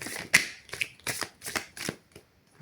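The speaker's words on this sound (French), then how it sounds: "J'essaie de ne pas regarder les cartes quand je mélange" A deck of cards is shuffled by hand in a series of quick riffling bursts, close and fairly crisp, with no talking over it.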